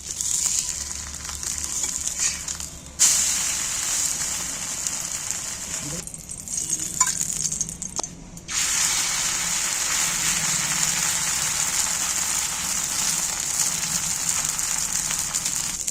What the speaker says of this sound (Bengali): দেখো এইভাবেই আমি সবগুলোকে ভেজে নিচ্ছি